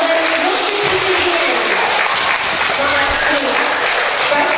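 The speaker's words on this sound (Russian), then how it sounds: "поблагодарить наших артистов дружными аплодисментами" Loud, continuous clapping from a full audience at a children's concert, an even wash of many hands that carries without a break from start to finish.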